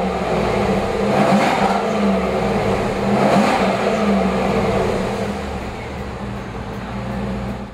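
A 2002 Chevrolet Camaro Z-28 convertible with stock exhaust revs and accelerates, a deep steady engine drone rising and falling in two swells before easing off, heard from close by.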